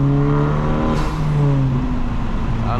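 A modified 2025 Honda Civic Type R FL5 engine revs hard above 4,000 RPM, a continuous loud, rising tone that swells and dips slightly as the throttle is held.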